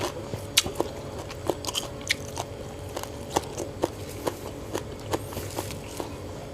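Crisp, close biting and chewing repeat at an uneven pace as someone eats sataek with jaew bong chili dip and fresh raw vegetables, the crunches standing out over a quiet background.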